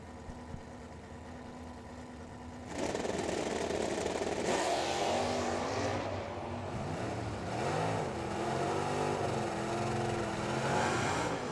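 At a drag race, classic Ford Fairlanes, one with a 440 and one with a 390 and a 4-speed, launch side by side. Engine noise jumps from a low idle to a loud, sustained roar that rises and falls through gear changes.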